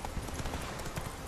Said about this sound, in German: wir hüpfen wieder auf unser Pferdchen und reiten